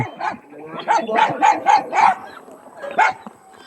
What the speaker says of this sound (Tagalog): Daming aso, tatay!